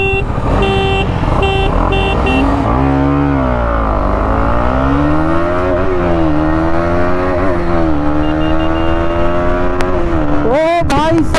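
KTM Duke 200 and 250 Adventure motorcycles drag racing on a highway, engines revving hard and loud through rising and falling gear changes, close by, for the whole stretch.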